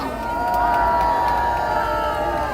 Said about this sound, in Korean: 큰 박수로 청해 듣겠습니다